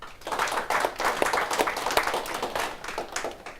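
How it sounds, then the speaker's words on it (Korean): An audience at a book talk on marriage and couples claps together, a steady, full round of many hands lasting several seconds at even loudness with no one speaking. "박수 한번 주시죠"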